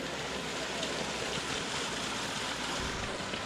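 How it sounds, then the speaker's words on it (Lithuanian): Water from a spring flowing steadily in the outdoors, a continuous broadband rush of running water heard up close with no voices. "Vieną vandens šaltinį radau."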